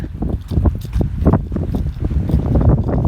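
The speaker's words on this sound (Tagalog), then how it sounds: "Mahangin lang talaga rito ngayon." Gusty wind at a beach buffets the microphone with a low, rumbling roar that rises and falls continuously.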